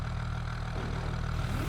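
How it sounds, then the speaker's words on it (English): A loud car engine drones steadily in the BeamNG Drive driving game, a wheel-less vehicle racing downhill, producing a continuous low rumbling hum without any pauses or speech. "We have no wheels and a loud engine."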